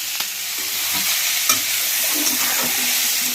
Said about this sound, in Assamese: ফুলখিনি আগত ভাজি ল'লোঁ